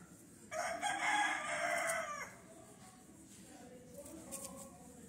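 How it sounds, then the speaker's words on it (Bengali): A rooster crows loudly once, a drawn-out call, followed by fainter clucking and bird sounds in the background. "আর ওই উপরে মুরগি আছে, ওই যে চেঁচাচ্ছে"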